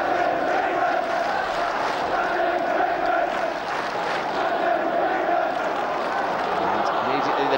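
A faithful Southampton football crowd roars and cheers in a stadium, a sustained, broad wash of many voices that holds steady throughout with no single call standing out.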